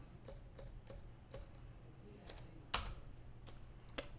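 Soft, scattered keystrokes on a computer keyboard, with a few light taps and two sharper clacks near the end, over a low steady hum. Faint and close, with no speech.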